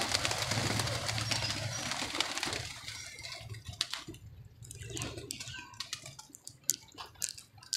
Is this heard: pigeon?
yes